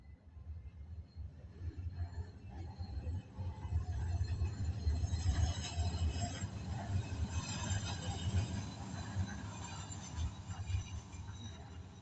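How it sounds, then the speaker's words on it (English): A low-deck green line train going by: a broad, rumbling roll that swells toward the middle and stays steady, heard from a moderate distance. "Another train went by,"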